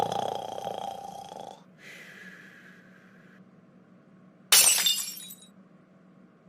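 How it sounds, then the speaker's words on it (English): Glass breaks and shatters during a 3 a.m. intruder scene in a horror film, a sudden loud crash near the end that follows a quiet stretch of low hum and faint scattered sounds. "Oh no! I think I just heard glass breaking."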